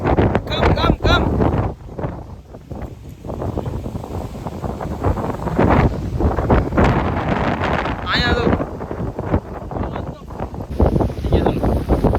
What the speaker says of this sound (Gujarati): હજી પવન આવવામાં જ છે